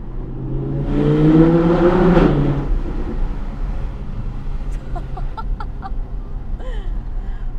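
An Audi R8 RWS engine revving loudly inside a tunnel by Lake Garda, a strong burst swelling for about two seconds, then settling into a quieter echoing hum with faint chirps over it.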